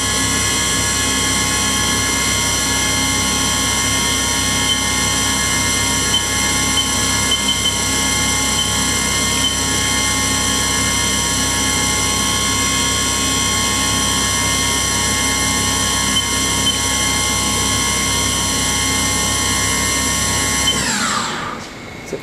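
A Haas VF5 vertical machining center spindle spins steadily at 4,000 RPM, a loud, close, sustained high whine with layered tones that holds for about twenty seconds, then winds down sharply at the end.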